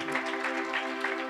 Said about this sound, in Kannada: ಒಂದ್ಸಲ ಜೋರಾದ ಚಪ್ಪಾಳೆ ಪ್ರತಿಯೊಬ್ಬರು